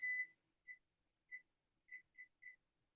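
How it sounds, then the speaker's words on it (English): A kitchen oven signals it has finished preheating to 350 degrees with a short run of clear, high electronic beeps, about six in an uneven rhythm, with one longer tone first, fairly faint in a quiet room. "that beep was the oven heating up to 350 so that it's nice and ready to go"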